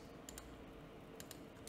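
Quiet, light clicks of a computer keyboard as text is typed into a Word document, short clusters of keystrokes sitting over a low steady hum.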